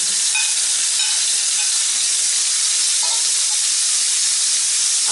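Steady loud sizzling of chicken frying in a hot pan, a constant hiss with faint crackles throughout, no voices.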